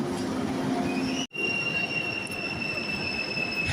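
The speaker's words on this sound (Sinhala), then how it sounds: "ගන්නකො ට්‍රේන් එක නැව්වගේ." A train pulling into Milan railway station lets out a sustained, piercing wheel squeal over its rolling rumble. The sound drops out for a brief moment, then the squeal carries on.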